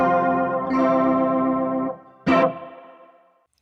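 Electric guitar played through a Boss ME-80 multi-effects preset gives a sustained, distorted chord with chorus shimmer and echo, then a second sharp strum that rings out and decays, with no talking.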